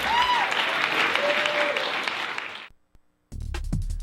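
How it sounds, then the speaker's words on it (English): Loud crowd applause and cheering at a live event, dense clapping that fades out after a few seconds, followed by a short silence and then other sounds starting up. "Big round of applause. Keep it going, folks."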